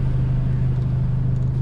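A car rumbles past close by, a steady loud engine drone with a low hum that holds through the short stretch, with no voices over it.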